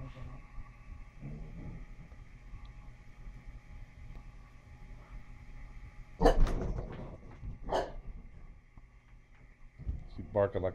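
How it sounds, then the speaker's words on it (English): A pot-bellied pig gives a few short, dog-like barking grunts in a yard near a tree, loud bursts standing out over low background rumble. "She's barking like a dog."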